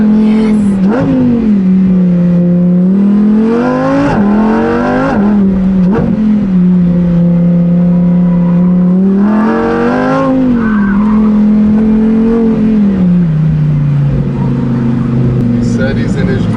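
Lamborghini Huracan Performante engine revving hard during an autocross run, the loud engine tone rising and falling with gear changes and throttle lifts, with tire squeal and voices inside the car.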